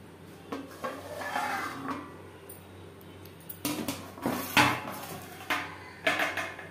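A lid is set onto a pan of hilsa fish curry in mustard paste, giving several close, sharp metallic clinks and clatters separated by short pauses, with no one talking.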